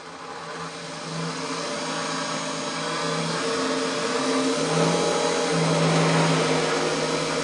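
An HM23 ice cream blender runs on continuous stirring, a steady loud motor whir with broadband noise that holds for the whole stretch and rises slightly in pitch and level, with no talk.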